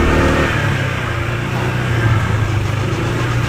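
A newly bought motorcycle engine runs loud and close, a steady heavy drone that swells slightly as it revs, with no talk over it.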